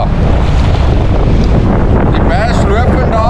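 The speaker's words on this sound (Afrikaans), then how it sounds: "Ja, die wind is wild." Strong wind buffets a microphone aboard a bass-fishing boat, a loud constant rumbling roar with water wash beneath, while people talk briefly near the end.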